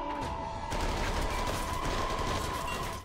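Dense, continuous gunfire fills a TV drama scene, a steady loud fusillade of rapid shots with no pauses across the whole stretch.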